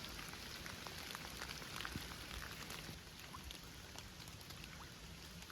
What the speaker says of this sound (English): Something quite meditative about watching raindrops hit the water, isn't there?